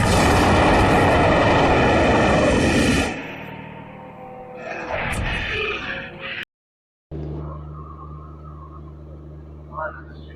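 A train at a railway station gives a loud, broad rumble and roar for about three seconds, then drops away to quieter station ambience with people talking and a low steady hum.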